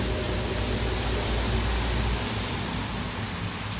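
Heavy rain falling outdoors among garden plants and leaves, a dense, steady hiss and patter filling the whole stretch with no let-up, close and loud.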